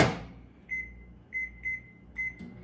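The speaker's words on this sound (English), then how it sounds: "Now we're going to go ahead and put this into the microwave." A microwave oven hums steadily while cooking snack mix, with several short electronic beeps from its control panel breaking in over the low drone.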